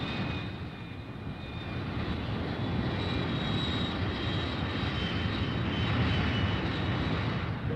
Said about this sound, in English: Back at the base, the fighter bombers take off.